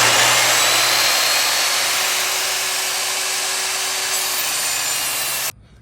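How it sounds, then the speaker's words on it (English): Sliding compound miter saw cutting through lumber, a loud sustained whining buzz of the blade through wood that drops away abruptly as the cut finishes. "I want to let my saw blade start up away from my piece and then plunge into it."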